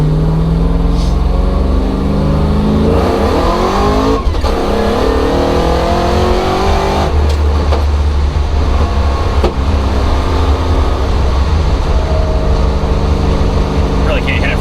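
A supercharged Chevy Nova accelerates hard, a loud, close engine roar climbing through the gears with rising pitch sweeps and a brief drop between shifts, while people talk over the engine noise inside the car.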